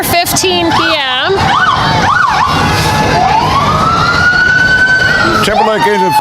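A fire engine siren at a Christmas parade wails loud and close, rising and falling before settling into a long steady tone, with a deep horn blast and crowd noise underneath.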